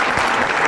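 A studio audience at a family game show bursts into dense, even applause, many hands clapping at once in a short, loud wash.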